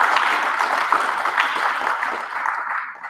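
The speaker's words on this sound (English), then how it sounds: "One more round of applause for Pat." Audience applause at a recovery group book study meeting, a dense, even patter of many hands clapping that holds steady for a few seconds before starting to taper off.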